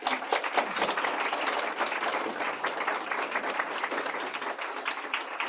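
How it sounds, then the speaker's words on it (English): Audience applause for a panel at a ministerial funding announcement for Kids Help Phone, with crisp, continuous clapping from a modest crowd, steady and fairly close throughout. "Let's have a round of applause for our panel."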